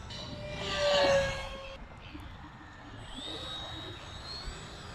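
A SCAMP mini RC parkjet flies past at about quarter throttle, a whooshing whine swelling as it passes near then fading, followed by a thinner distant whine, with faint outdoor background.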